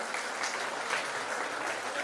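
Audience at a school function applauding, a steady, even patter of many hands clapping at moderate distance, unbroken for the whole stretch.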